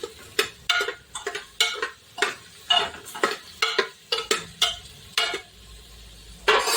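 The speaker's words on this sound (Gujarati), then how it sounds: "તો મસ્ત તેલમાં સળે છે બધું તેલમાં થોડુંક સળી જાય" Akni spices and ingredients frying in hot oil, heard as a series of short, sharp sizzling bursts and stirring scrapes in an irregular rhythm, fairly close and with no talking.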